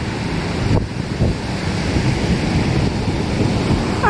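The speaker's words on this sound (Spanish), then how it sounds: "¿verdad que se siente bien relajante la brisa, el sonido de las olas?" Ocean waves wash and roar steadily at the shore while a strong sea breeze buffets the microphone, with no talking.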